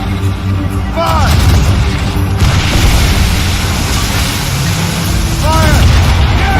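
Ship cannons firing in Assassin's Creed Rogue, heavy booming blasts rolling over a dense low rumble of naval battle, loud and continuous with shouted voices mixed in.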